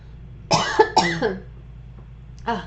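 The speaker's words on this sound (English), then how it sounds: "So I'm going to cough." A person coughs several times in quick succession, a harsh, close-up burst, then one more short cough after a brief pause.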